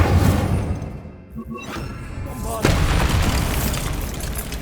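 An Incendio fire spell cast in Hogwarts Legacy on PS5: a loud burst with a booming whoosh over dense game sound, a brief lull, then a second forceful flare and sustained roar.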